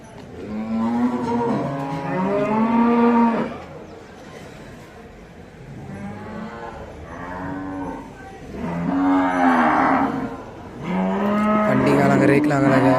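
Native cattle at the Melapalayam cow market moo repeatedly in long, loud, drawn-out bellows, several calls overlapping in close succession amid the open-air market din.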